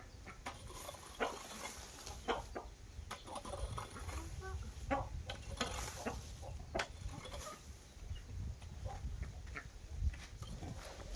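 Chickens cluck and a rooster calls around a rural Lao village home, with repeated short fowl calls scattered over steady low background noise at moderate distance.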